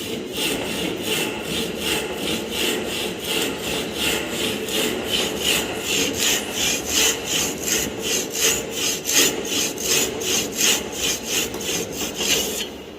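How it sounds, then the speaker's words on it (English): A handsaw cuts through a wooden workpiece along a marked line, loud rhythmic rasping push-pull strokes repeating steadily and close, with no talking. "So with the help of handsaw, we are cutting our workpiece as per our marking line."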